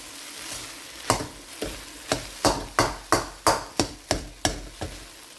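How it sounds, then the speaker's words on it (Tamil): Puttu mixed into chicken kottu in a hot pan gives a steady sizzle under a run of about a dozen evenly spaced metal scraping strokes, close and fairly loud, with no talking. "இப்போ நான் புட்டை சேர்க்குறேன். சேர்த்துட்டு நல்லா மிக்ஸ் பண்ணி விடுவோம்."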